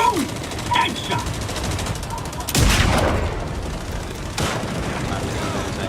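Gunfire and booming blasts in a Gears of War style video game, a couple of heavy impacts close up with sharp bursts between them, mixed with a voice talking.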